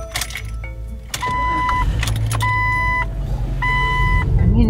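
A troubled Jeep driven on a remote road, its engine a steady droning hum inside the cabin, with repeated electronic beeping chimes sounding over the running motor.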